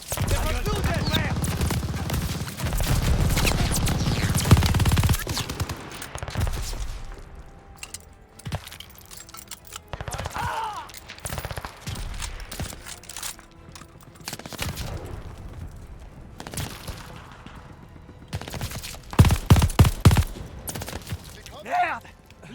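Enemy machine gun fire and scattered gunshots in the World War II shooter game Call of Duty: Vanguard, with sharp cracks and rapid bursts of varying distance, heaviest near the end, while soldiers shout over the battle.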